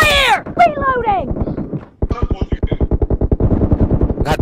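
Rapid automatic gunfire in PUBG, a fast even burst of many shots near the end after a short pause, with someone shouting excitedly over the opening.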